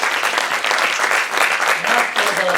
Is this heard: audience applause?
yes